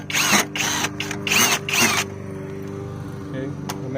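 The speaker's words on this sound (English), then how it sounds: "we're going to use power tools" A power tool loosens the battery bolts on a 2014 Ford Focus 2.0, whirring in four short close bursts before falling quiet under a faint background hum.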